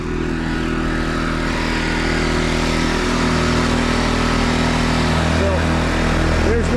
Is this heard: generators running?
yes